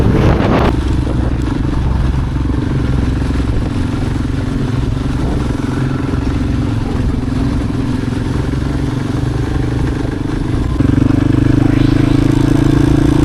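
A motorcycle engine drones steadily and loudly throughout a ride in the Greek mountains, rising to a stronger, deeper pitch near the end.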